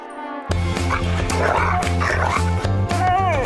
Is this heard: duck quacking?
no